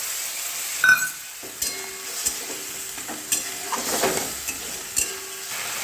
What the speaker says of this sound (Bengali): এবার আমি পেস্টটা এতে দিয়ে ভালো করে কষবো।